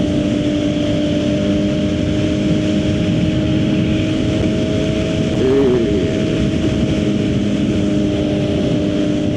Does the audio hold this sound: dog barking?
no